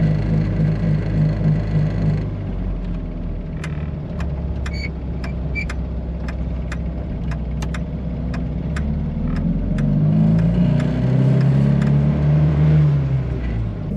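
The engine of a 1969 Mazda Carol drones steadily inside the small car, its pitch rising as it is given gas, with a series of faint ticking clicks in the middle.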